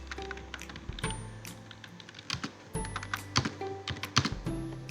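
Fingers type on a computer keyboard in quick, irregular bursts of close clicking keystrokes, with a few louder taps and no talking.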